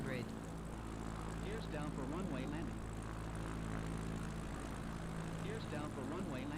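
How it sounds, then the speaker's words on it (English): A propeller airplane in a flight simulator glides in to land on a runway with gear down at zero power, its engine droning steadily under continuous talk. "Look how floaty this plane is."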